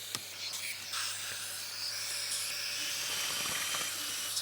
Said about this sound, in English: We get the supplied drill bit ready to rock and roll.